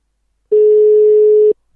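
A French telephone line sounds one steady electronic tone lasting about a second, loud and pure against silence, then cuts off.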